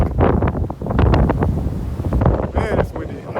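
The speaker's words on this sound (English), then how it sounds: "Man, it's windy." Wind buffets the microphone on a Hawaii beach, loud booming gusts rising and falling with rumbling low rushes and a faint wash of surf, close and continuous without clear speech.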